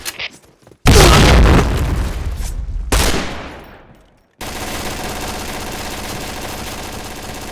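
Grenade explosions boom in an online shooter match, two loud blasts in quick succession each trailing off into rumble, followed by steady gunfire and battle noise.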